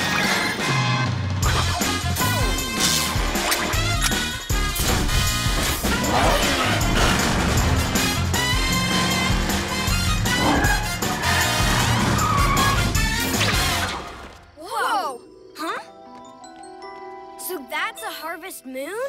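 The PJ Masks cat car races off in a noisy burst of engine roar, tire squeal and crashing, busy and loud for most of the stretch before dropping to quieter, sparser sounds near the end.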